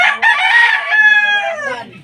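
A loud, close rooster crow, one long drawn-out call that rises and then trails off, with nothing else around it.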